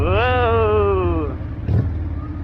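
A truck's engine sputters and putters up close on a drive under cloudy skies, a loud rough rumble that continues after a brief rising whine, with a short burst of popping near the end.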